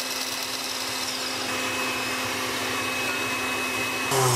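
A stand mixer whips egg whites to stiff peaks for a Japanese green tea chiffon cake: a steady, loud motor whir with a high whine, continuous throughout and unaccompanied by talking.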